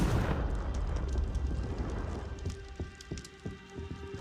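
The Confringo fire spell is cast in Hogwarts Legacy, a loud bursting blast at the start that decays into a crackling, sputtering tail with scattered sharp pops.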